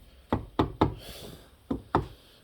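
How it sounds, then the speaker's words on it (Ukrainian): Knuckle taps on a car door lock, five sharp knocks in two groups, close and clear, three quick raps and then two more after a pause. "тільки тут трошки стукнеш по замку і одразу світиться"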